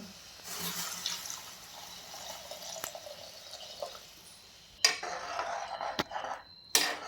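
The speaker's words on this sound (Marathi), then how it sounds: "गरम पाणी सोडून घ्यायचं आहे आपल्याला" Hot water is poured into a pan of village-style brinjal curry, about one and a half glasses: a running, splashing stream with drips, a few sharp metallic knocks against the pan, and no talking.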